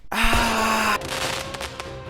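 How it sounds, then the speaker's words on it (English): Fireworks sound effect: a loud, sustained crackling burst with a steady tone running through it for about a second, followed by softer scattered pops and crackles trailing off. "Why do I hear fireworks?"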